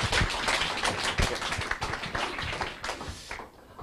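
Loud, dense applause from a conference audience welcoming a speaker on stage, a steady roar of many hands clapping for several seconds before tapering off at the end.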